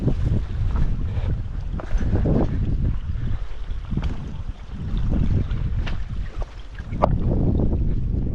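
Strong gusty wind on Mount Washington near the Alpine Garden buffets the microphone in a loud, continuous rushing roar, with swelling gusts and occasional sharper thumps.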